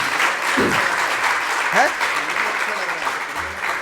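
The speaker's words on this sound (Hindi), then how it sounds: "एक बार अच्छे से ताली बजा दो" Religious gathering audience claps together in a sustained, dense round of applause, close and steady, while a voice speaks briefly over it.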